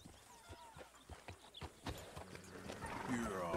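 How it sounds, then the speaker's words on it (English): Horse hooves clip-clop in Red Dead Redemption 2 as a rider mounts and sets off, with steady hoof beats that build in pace under the game's ambient sound. "Gonna mount my horse."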